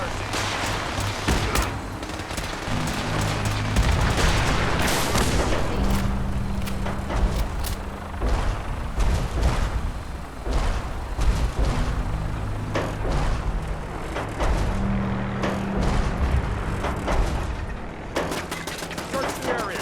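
Sustained gunfire in the video game Fallout 4, dense bursts of rapid shots crackling over a low droning game soundtrack, loud and continuous with brief lulls.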